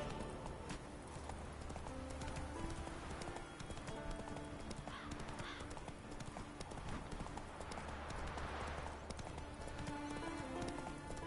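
Horse hooves galloping in The Witcher 3, a fast, steady clip-clop that runs the whole time under game sounds, with a faint whinny and some background noise.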